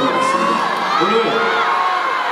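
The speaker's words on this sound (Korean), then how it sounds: "열렬히 환호해 주시고 같이 즐겨주신 여러분들께 다시 한번 감사드리고" An outdoor park concert crowd for a rock band cheers loudly, a sustained roar of shouts and whoops with high voices rising and falling together, close and continuous.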